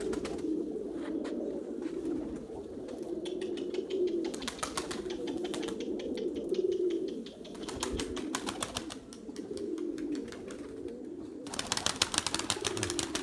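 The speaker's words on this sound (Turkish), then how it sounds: "Kuşlarımız havada." Pigeons coo steadily in a low, continuous murmur while bursts of wing flapping come and go as the flock takes off and flies overhead, with no talking.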